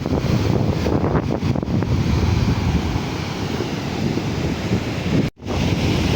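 Large sea waves crash and surge against the shore at Uppunda, a continuous loud roar of surf buffeted by heavy wind noise, with a brief dropout near the end.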